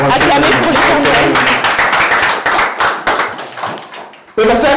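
Church congregation clapping and cheering for the Lord, a dense, loud burst of applause and shouts that thins out gradually, then a voice abruptly cuts back in at the end.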